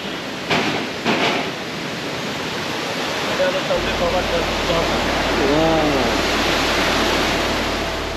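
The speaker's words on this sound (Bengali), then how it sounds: "আমরা এই যে একটা ঝর্ণা, সুন্দর একটা ঝর্ণা, এই ঝর্ণাটা দেখব" A waterfall in Bandarban, Bangladesh gives off a steady, full roar of rushing water from start to finish, with faint tonal chirps briefly rising above the wash.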